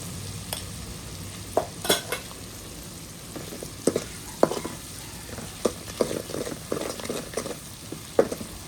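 Steady sizzling of red chili powder frying in a hot pan, with occasional scraping and stirring clicks over the hiss.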